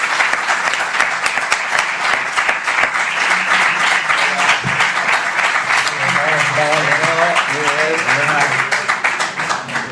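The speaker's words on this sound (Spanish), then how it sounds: "por favor, un fuerte aplauso." Loud, sustained audience applause fills an arena at a EuroBasket 2015 Spain versus Serbia basketball event, with crowd noise and a voice speaking over the clapping.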